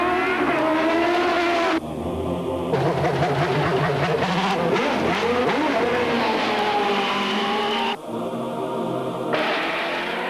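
Formula One race cars screaming at high revs, a continuous loud engine wail with rising and falling pitch as cars pass, shifting gears, with a brief cut partway through.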